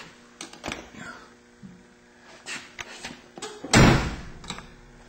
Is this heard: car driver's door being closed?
yes